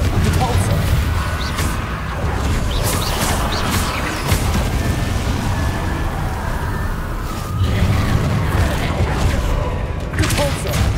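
Spell blasts from Hogwarts Legacy gameplay, with repeated booming impacts and crashes in a loud, continuous barrage while a voice shouts over the action.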